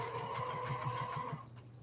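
A sewing machine stitching a feather design on a baby quilt runs in a fast, even mechanical hum with a rapid rhythmic needle tapping, then stops abruptly near the end.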